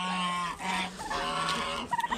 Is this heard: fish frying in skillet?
no